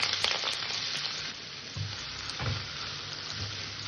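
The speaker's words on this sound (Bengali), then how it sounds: "গাজরটাকে আমি একটু হালকা ভেজে নেব" Chopped carrots fry in hot oil in a wok, a steady bright sizzle with occasional soft stirring scrapes, close and continuous with no voices.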